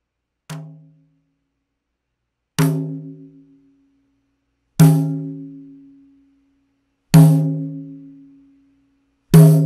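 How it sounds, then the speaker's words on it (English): A tambourine struck with a nylon brush gives five separate ringing hits about two seconds apart, each with a bright attack and a jingly decay that fades before the next strike, loud and close with no talking. "I'm going to strike this tambourine with these with this nylon brush."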